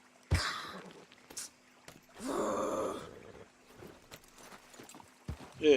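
Horse hooves clip-clop in the Red Dead Redemption 2 video game, a few scattered hoof hits mixed with snorting and louder rustling bursts over a quiet background hum.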